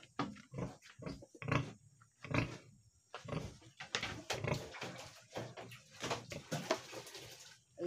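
A pregnant sow grunts and snorts repeatedly in short, uneven bursts, close by, with no talking.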